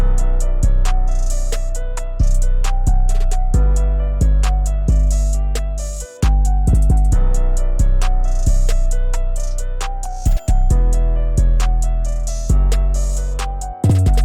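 Memphis-style drum pattern made in FL Studio, with booming 808 bass notes decaying under crisp snare hits and rapid rolls, loud and steady throughout with no talking.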